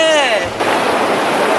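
Sea waves washing up on a beach, a brief whistling tone giving way to a broad, steady rush of surf that fills the rest of the moment at close range.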